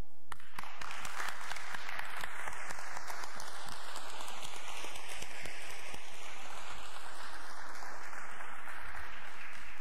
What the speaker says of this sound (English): give a round of applause to them and for everyone in this room